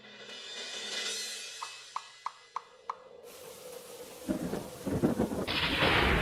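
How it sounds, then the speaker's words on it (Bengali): A thunderstorm with rain opens with a low rumble and a run of sharp evenly spaced knocks, then a heavy rush of rain grows louder and denser toward the end. "এই তো ঝড় বৃষ্টি শুরু হয়ে গেল"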